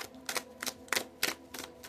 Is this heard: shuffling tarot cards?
yes